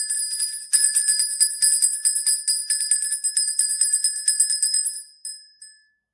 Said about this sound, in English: Every time I ring that bell,